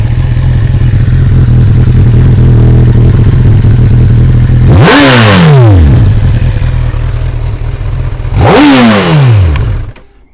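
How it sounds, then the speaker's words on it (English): A motorcycle engine idles steadily and loudly, then is revved hard twice in two separate bursts, its exhaust note rising to a wail and falling back each time before cutting off at the end. "It's got a really nice exhaust note to it, not too raucous until you get much higher up the rev range"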